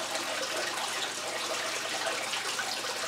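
Water runs steadily over gravel on a grease table used for recovering diamonds, a constant close hiss and trickle without pauses or voices.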